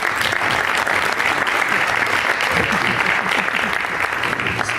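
An audience at a Kurdish Newroz New Year celebration applauds in a sustained, dense burst of clapping, with faint crowd voices mixed underneath.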